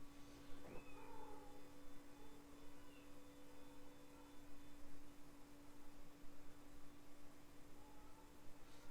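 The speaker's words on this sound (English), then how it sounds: "That's Mama. She's in heat again. She wants to go outside" A female cat in heat meows outside, a short drawn-out call near the start followed by fainter, more distant cries over a steady background hum.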